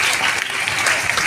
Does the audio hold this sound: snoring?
no